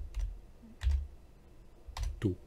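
Keys clack on a computer keyboard as a word is typed: a few sparse, separate taps spaced across a couple of seconds, close and fairly crisp, with no talking.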